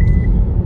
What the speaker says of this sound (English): my car's beeping again